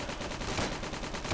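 Rapid machine-gun fire rattles in the World War II video game Gates of Hell, with a steady run of closely spaced shots throughout.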